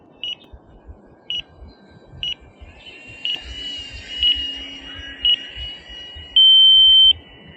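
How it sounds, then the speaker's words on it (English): A flight timer alarm beeps in a series of short, high electronic beeps about once a second, ending in one longer sustained tone, over a low background rumble, during an E-Flite Maule M7 model plane flight. "That's the end of the 5-minute timer."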